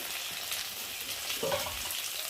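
Potatoes and drumstick pieces fry steadily in hot oil with salt and turmeric, a continuous broad sizzle with a brief louder crackle near the end, close and alone.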